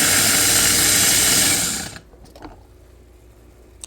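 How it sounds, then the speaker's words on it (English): A kitchen meat grinder or food processor whirs loudly and steadily, grinding meat for a spaghetti pizza, then cuts off abruptly, leaving quiet clicks and faint handling noises. "I'm going to go ahead and ground the meat"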